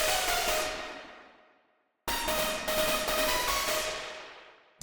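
A harsh, distorted hard techno synth lead with a noisy, hissing character plays two long sustained hits that each fade out slowly, with a brief drop to silence between them.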